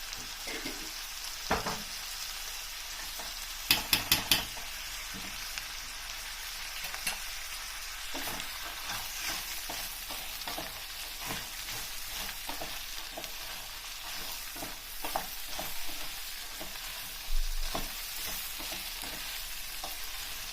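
Pepper paste and tomato paste fry in a pot of chicken broth soup, a soft continuous sizzle broken by occasional clinks and scrapes of stirring, with no voices.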